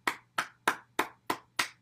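A cupped hand pats the inside of an elbow six times in an even, brisk rhythm, each pat a hollow, close, clap-like slap.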